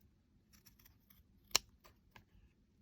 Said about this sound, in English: So I'm just going to cut these at an angle.